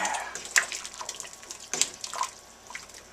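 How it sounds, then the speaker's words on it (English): Beef stew being stirred in a pot with a ladle, giving wet liquid sloshes and scattered metallic clinks with a couple of sharper knocks, fairly close and moderately quiet, with no talking. "So I'll stir it with this ladle so I can ladle it out later."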